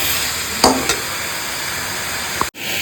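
Chicken for a light curry sautés in a pan over high heat with a steady, loud sizzle. A few brief spoon scrapes come from stirring, and the sound cuts sharply near the end.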